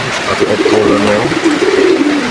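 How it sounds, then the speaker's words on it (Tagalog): Stock pigeons coo in low, throaty warbling calls close by, a short murmuring phrase while a voice speaks briefly over it. "Mga stock birds natin."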